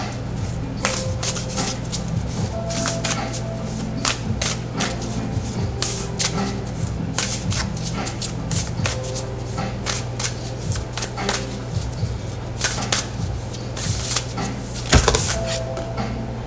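Oracle cards are handled and shuffled up close, with rapid riffling bursts and crisp card flicks repeating throughout, alone with no talking.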